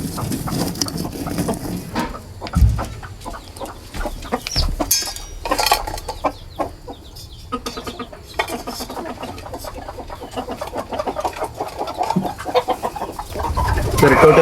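Hens cluck and squawk nearby in a farm poultry coop, with scattered sharp calls and soft rustling over a steady background.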